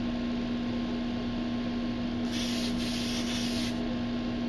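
Spray gun laying down a coat of U-Pol clear coat, a close, steady hiss that sets in partway through and runs for about a second and a half over a constant background hum, with no talking.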